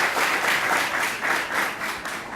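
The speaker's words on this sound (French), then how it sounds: "Donc sur vos applaudissements, Richard va partager le texte avec nous." An audience at a Creole-language cultural event applauds a reader, steady, full-room clapping that swells and dips slightly over a couple of seconds with no voices on top.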